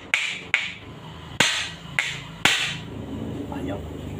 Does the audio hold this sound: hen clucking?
no